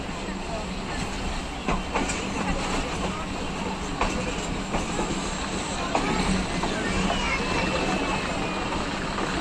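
An overloaded Kohat Express passenger train running on rails in Pakistan, a steady rumble from inside the carriage with periodic wheel clicks over rail joints and faint background voices.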